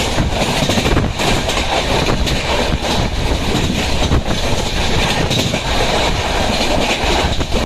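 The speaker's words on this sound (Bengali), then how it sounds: "ট্রেন চলছে আপন গতিতে" A train rolls steadily along the rails, loud and close, with a rumbling drone and rhythmic clickety-clack of wheels over joints.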